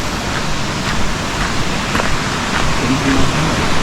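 A small waterfall in Akatarawa Forest, New Zealand, gives a steady broadband rushing hiss of falling water, constant and fairly loud, with faint voices briefly underneath.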